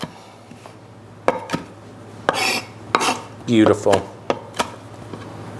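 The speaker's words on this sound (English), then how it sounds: "rosemary and oregano and some thyme, and I'm just going to give this a very rough chop" Knife roughly chopping rosemary, oregano and thyme on a board for a roast leg of lamb, a series of scattered close thuds and scrapes with a brief spoken word and a steady low hum beneath.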